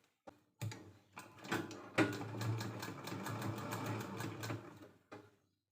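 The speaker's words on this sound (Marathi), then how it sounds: "याच्यावरती टिप मारून घ्यायची आहे" A sewing machine stitches a folded fabric strap for a bag made from leftover blouse cloth, with a long steady whirring run of close stitching broken by brief starts and stops.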